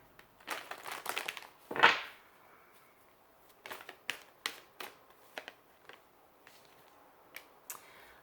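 Archangel tarot cards are handled and shuffled in a quiet room, with a run of crisp rustles and flicks, then one louder riffling burst and scattered sharper snaps of the cards, close by and with no talking.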